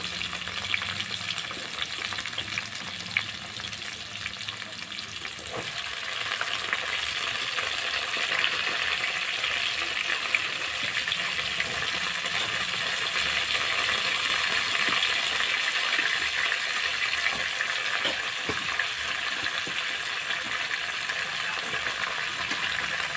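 Mixed vegetables frying in a pan for a Bengali mixed vegetable curry, a steady broadband sizzle that swells after the first few seconds and continues loud and even, with occasional clinks and stirring scrapes.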